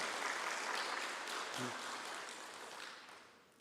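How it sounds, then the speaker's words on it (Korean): Congregation applause during a church service after a testimony, a steady broadband wash of clapping that gradually fades out. "우리 박수로 한번 격려해 보시겠습니다"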